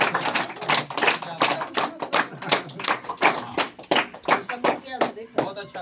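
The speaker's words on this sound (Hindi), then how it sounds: "ताली।" A group of high school children at a yoga demonstration clapping in short, rhythmic bursts of sharp claps, close and fairly loud, with some voices mixed in.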